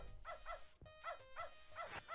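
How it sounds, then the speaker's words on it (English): A dog in the video game Beneath A Steel Sky barking at a TV showing cats, a series of sharp yappy barks in quick pairs and singles, clear and fairly close. "he will start barking at it because there are cats on the screen"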